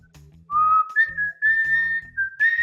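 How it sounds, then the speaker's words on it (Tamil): A person whistles a melody in steady, clear tones, sliding between sustained notes with brief breaks, over faint low background hum in a Tamil TV show setting. "உங்களுக்கு பிடித்த ஒரு பாடலை விசில் மூலம் இந்த நேயர்களுக்காக படித்து காட்டு"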